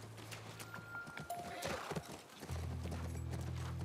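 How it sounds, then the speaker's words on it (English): Horse in the video game The Last of Us Part I, hooves clip-clopping near a ranch with a brief whinny, faint, with a steady low engine-like hum starting partway through. "That's our horse."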